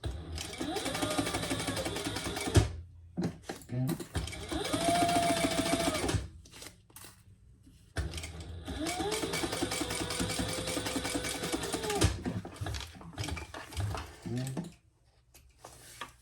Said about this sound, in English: we're going to sew that together at the full seam allowance